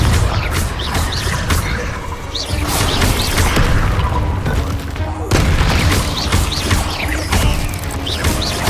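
Confringo blast spells cast in the video game Hogwarts Legacy: repeated booming, crashing impacts and mechanical clatter, loud and continuous, with a brief break midway before another burst.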